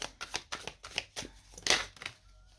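A deck of Inner Star oracle cards being shuffled by hand, a rapid run of close riffling, slapping bursts with short pauses between them, ending in a sharper flutter as a card is drawn.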